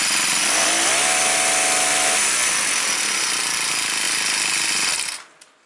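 A Troy-Bilt four-cycle string trimmer engine with carburetor buildup runs at a loud, steady, buzzing high idle for about five seconds, then cuts off abruptly into silence.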